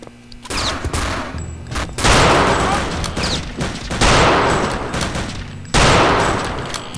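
Loud, dense bursts of automatic and rapid gunfire from the Return to Castle Wolfenstein video game, several sustained volleys in quick succession, with brief talk in between.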